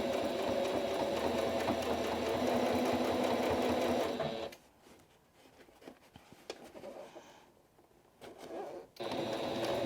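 A sewing machine stitches a cushion seam at a steady fast whir for about four seconds, then stops, with quieter handling sounds and a brief restart near the end.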